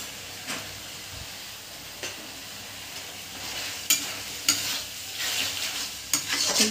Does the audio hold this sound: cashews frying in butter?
yes